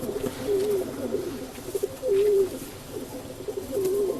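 Rekdhar pigeons coo in low, throaty, repeated calls that rise and fall in a steady cycle, close by against a soft background hum, with no talking.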